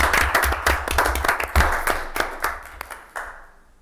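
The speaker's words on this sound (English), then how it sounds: "let's have a round of applause" Meeting attendees giving a round of applause, a burst of individual claps that thins out into scattered last claps and then fades to quiet.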